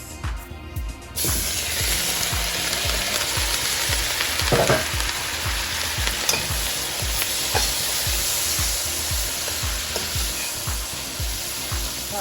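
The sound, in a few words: vegetables frying in hot oil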